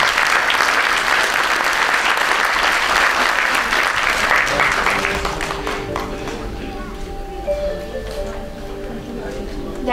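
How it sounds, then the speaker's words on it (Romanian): Audience applause at a festive university graduation ceremony, loud, dense clapping filling the first half, then thinning out as talk and music-like tones emerge underneath. "te primim cu aplauze."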